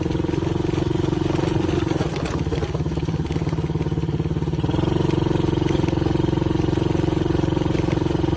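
A quad bike (ATV) engine runs loudly and steadily close by in soft sand, with a rough shaking clatter through the middle and no pause over the whole stretch.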